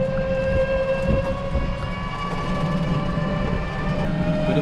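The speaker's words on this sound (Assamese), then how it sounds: "ট্ৰেইন চলি গ'ল" A train pulls out of a station with a low, steady rumble beneath sustained whining tones, held at a constant level throughout with no voices.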